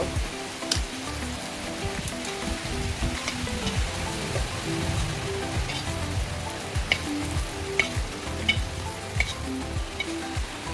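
Kofta balls frying in hot oil give a steady, close sizzle with light crackling pops throughout, alone with no talk.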